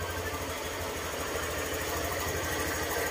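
A Honda Click scooter engine idles steadily while warming up just after starting, a close, continuous even putter with a fast rhythmic pulse and no talking.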